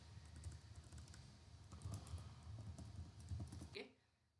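Faint quick tapping of fingers typing on a computer keyboard, a steady run of soft clicks for a few seconds under a low background murmur.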